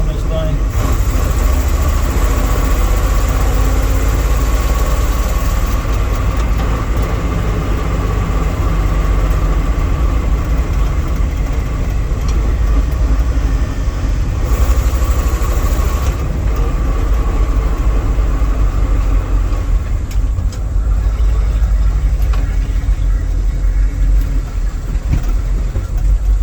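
A 1979 Dodge W300 Club Cab truck in poor shape after being crushed by a tree, its engine running in a steady, loud, low rumble throughout, with a voice talking over it.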